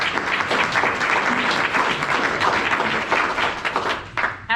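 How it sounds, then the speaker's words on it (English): Audience applause for mentors at a student presentation event, with a continuous round of many hands clapping in a hall that holds steady, then thins toward the end. "Let's give them another round of applause."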